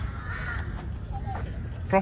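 Crows caw in a park, a few harsh calls rising over someone talking, with one louder call near the end.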